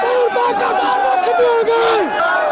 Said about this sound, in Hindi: लगातार यहाँ पर नारेबाजी चल रही है